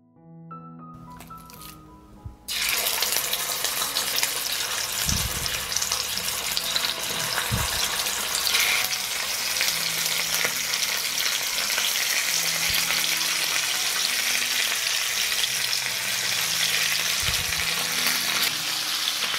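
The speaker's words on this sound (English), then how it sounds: "I will sear the meat for 2 minutes on both sides." Meat sears in hot olive oil in a pan, a loud, steady sizzle that bursts in after a quiet couple of seconds and crackles on, with a few soft knocks of the pan underneath.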